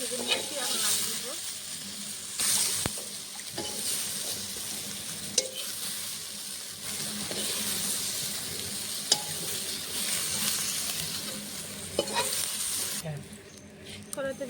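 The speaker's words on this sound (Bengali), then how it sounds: "মটরটাও দিয়ে আমি হালকা করে ভেজে নিয়েছি, এখন নামিয়ে নেব" Peas lightly frying in a pan for a Bengali mixed vegetable dish give a continuous close sizzle, broken by stirring scrapes and a few sharp utensil clicks, before quieting near the end.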